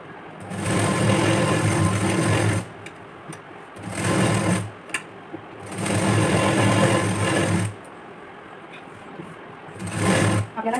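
Sewing machine stitching along a blouse, running in three long loud bursts with brief pauses between, plus a short final run; steady mechanical whir close to the mic, no talk.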